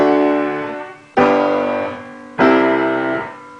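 Three sustained harmonic chords played in turn, each struck cleanly and left to ring and fade before the next, forming a tonic, secondary dominant, dominant, tonic progression, alone with no talking.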